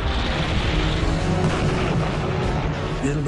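Dense, continuous rumbling blasts of war rockets overlap into a roaring wall of explosions, loud and heavy in the low end, with no pause throughout.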